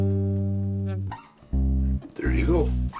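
Bass track run through a Drawmer MQ-2 compressor, sustained low notes in three loud phrases with short gaps, a brief voice breaking in between.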